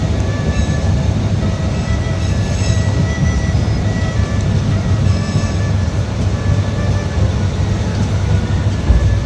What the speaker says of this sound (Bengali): আমি যে রেলগাড়িটিতে যাচ্ছি সেটি হচ্ছে ঢাকা থেকে চট্টগ্রাম গ্রামী মহানগর প্রবাদী এক্সপ্রেস